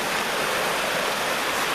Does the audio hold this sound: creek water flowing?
yes